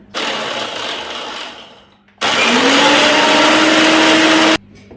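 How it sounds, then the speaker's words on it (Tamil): Kitchen mixer grinder whirring at high speed while pulverizing pepper, fennel and garlic, running in two loud steady bursts with a brief pause between and a rising whine in the second run. "நான் வந்து மிளகும் நச்சீரகமும் உள்ளியையும் சேர்த்து மிக்சியில் வந்து அடிக்க போகிறேன்"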